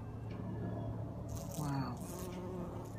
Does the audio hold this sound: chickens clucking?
no